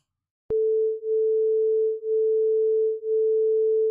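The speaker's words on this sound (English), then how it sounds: "what happens if we now listen to 439 hertz at the same time as well? So 440 and 439." Two pure tones at 440 Hz and 439 Hz sounding together after a sudden click, producing a smooth steady hum that swells and dips in slow beats about once per second.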